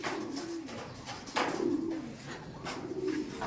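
Pigeons cooing close by, a series of low rolling coos repeating every second or so amid light flutter and rustle.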